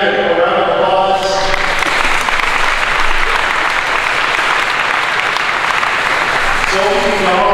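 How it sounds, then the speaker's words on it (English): Audience at a high school signing day bursts into loud, sustained applause, dense clapping filling the room for several seconds after a brief spoken line, then fading as a voice returns. "So let's get out of here. A round of applause."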